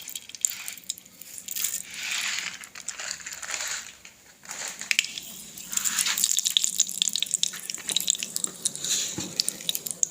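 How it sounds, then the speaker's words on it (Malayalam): Fenugreek seeds hit hot oil in a pan for a Kottayam-style tuna curry, giving a steady, close sizzle with scattered crackles and pops that swell and ease over several seconds. "ഏത് മീനിനും കടു വറക്കാൻ നമ്മൾ ഉലുവ ഉപയോഗിക്കുമല്ലോ അതങ്ങ് ഇട്ട് കൊടുക്കുവാണ്"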